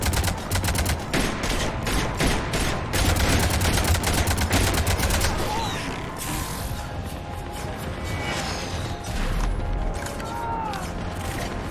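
Heavy ship cannons in Mass Effect 3 fire in a fast, loud volley of booming blasts, then give way to a rumbling, echoing barrage with scattered mechanical noises.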